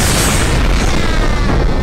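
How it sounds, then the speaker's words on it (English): Explosion in the Circus Of TimTim video game, a loud, dense boom that fills the whole clip with a rumbling low end and crackling spread, no speech over it. "You just exploded!"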